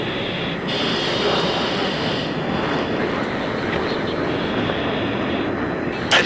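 A fighter jet rolls along a runway in the Battlefield 3 video game, its engine a loud, steady roar that holds throughout with no gaps.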